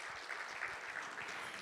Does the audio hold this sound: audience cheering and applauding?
yes